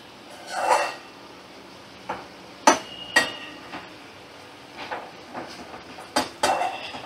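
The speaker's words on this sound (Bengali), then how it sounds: "এবার আমি নামিয়ে নেব কড়া থেকে।" Metal spoon scraping and clinking against a wok as an okra-potato curry in mustard-poppy paste is lifted out, giving scattered sharp clanks and knocks with quiet gaps between them.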